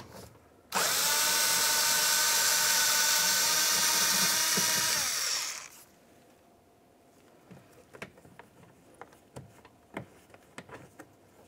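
A power tool spins out a 7mm bolt inside the door of a 2000-2006 Chevrolet Tahoe, one loud high-pitched whirring burst lasting about five seconds and winding down, followed by quiet clicks and handling of parts.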